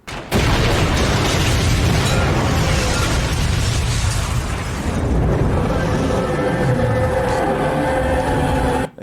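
A loud, sustained movie bomb explosion from the film End of Days fills the whole stretch with a dense, roaring rumble that barely eases before cutting off abruptly.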